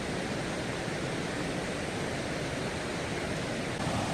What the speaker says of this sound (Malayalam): വെള്ളം ചാടുന്നതിൻ്റെ സൗണ്ട് കേട്ടാ അകലെന്ന് തന്നെ കേൾക്കാം